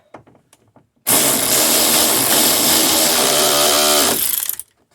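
Power tool running a bolt down on the rear shock of a 2011 Mercedes GLK X204, a loud continuous whirring drive lasting about three seconds after a few light clicks, then cutting off.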